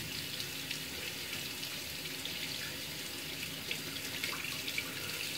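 A razor being rinsed under a running bathroom tap, with a steady, close hiss of flowing water and faint clinks, no talking.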